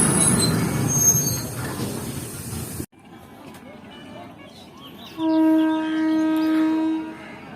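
A passenger train pulls into Mohenjo Daro railway station in rural Sindh, a rough rumble and hiss of the carriages giving way to a loud, sustained metallic wheel squeal near the end, with no talk over it.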